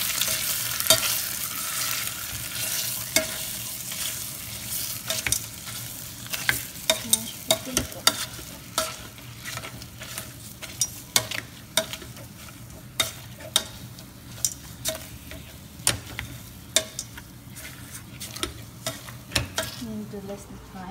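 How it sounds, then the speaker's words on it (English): Israeli mashed potato (Pieri) is mashed in a hot pan, giving a continuous sizzle punctuated by repeated sharp utensil knocks and scrapes at an irregular rhythm, close by, with no talking. "Mash the food."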